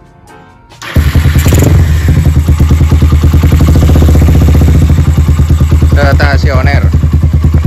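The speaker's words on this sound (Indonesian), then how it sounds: "Jadi ini engine stopnya bosku." A Honda CB100 motorcycle engine fires up after a brief crank and settles into a loud, steady, close idle with a rhythmic putter, while someone speaks over it near the end.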